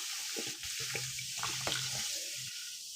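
Chilled Coca-Cola poured into a pot for making laundry bar soap, a short liquid gush and splashing that sounds close and fairly soft, with no talking.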